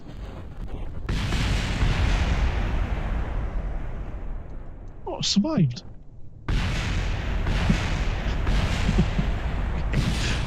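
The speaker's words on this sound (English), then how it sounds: "Explosion." Rocket exploding in Kerbal Space Program, a sustained roaring blast that rumbles for several seconds, breaks off briefly with a voice speaking, then resumes with another loud burst.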